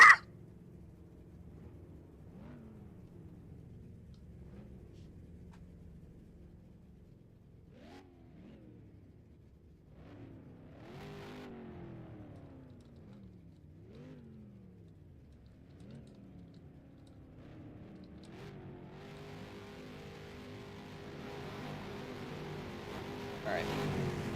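Several race car engines rev in an oval racing game mod, repeated rising and falling revs from a few cars idling in a lineup, growing louder and busier toward the end. Voices talk faintly underneath.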